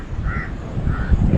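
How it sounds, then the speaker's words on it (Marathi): Two harsh crow caws, from crows harassing a peahen in the Konkan countryside during the monsoon, ring out about half a second apart over a low rumbling background. "हे बघा कावळे तिला त्रास देत आहेत"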